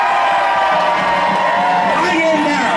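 A large crowd cheers and whoops loudly for President Donald J. Trump, a dense, sustained roar of many voices with shouts rising through it from start to finish.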